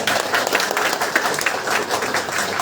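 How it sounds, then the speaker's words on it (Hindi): An audience at a DXN meeting applauding, a dense continuous wash of clapping from many hands that holds steady throughout, no speech over it. "तो इनके लिए जोरदार ताली होनी चाहिए।"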